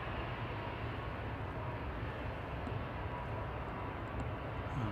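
A Boeing 787-9 Dreamliner departing Manchester Airport for Bridgetown, a constant far-off engine rumble with no voices.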